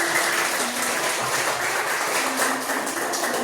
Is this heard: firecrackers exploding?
no